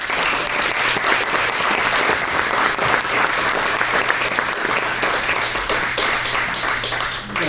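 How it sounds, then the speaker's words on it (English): A concert audience gives sustained, loud applause for an electronic music pioneer, dense clapping filling the whole stretch evenly before tapering slightly at the very end. "give him a big round of applause"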